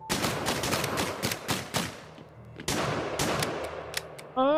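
Rapid bursts of gunfire in the video game Lovecraft's Untold Stories, loud, repeated shots in two clusters with a short lull between them.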